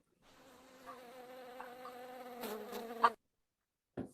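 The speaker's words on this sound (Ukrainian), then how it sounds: "або як спілкуються між собою бджілки." Steady insect buzzing with a droning hum that swells slightly, a couple of brief louder bumps near the end, then silence and a short final buzz.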